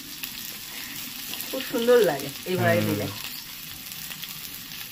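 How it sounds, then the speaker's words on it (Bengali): Cumin and grated ginger fry in a hot pan on a tawa, a steady soft sizzle running throughout while someone talks over it in the middle. "সব কটা একসাথে ভাজা হয়ে যাচ্ছে"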